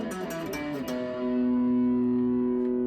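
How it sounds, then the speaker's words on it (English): A Fender MIJ Jazzmaster electric guitar rings out through gain distortion, first with a few quick picked notes and then with a single held chord that sustains loudly and fades slowly. "now I'm gonna turn you to the gain or a little distortion"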